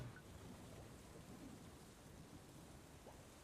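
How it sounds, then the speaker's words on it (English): Thunder and rain from the weather effects in the Cubic Castles video game, a very faint steady rain hiss with a soft, low rumble underneath. "It's thundering."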